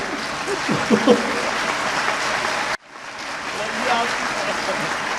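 Audience applause at a seminar: steady, moderately loud clapping from many hands fills the room, cut by a brief dropout midway before resuming, with faint voices beneath.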